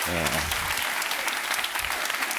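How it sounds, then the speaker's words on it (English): Audience at the Plan B Forum 2024 bitcoin conference applauds the panel, a full crowd clapping close and steady while a voice speaks briefly at the start and again near the end. "Give him a round of applause, guys"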